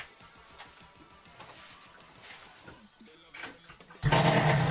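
A scooter fitted with an 88cc Stage6 Big Racing kit coughs and catches near the end, a loud, dense engine roar bursting in after several seconds of quieter fumbling with voices talking over it.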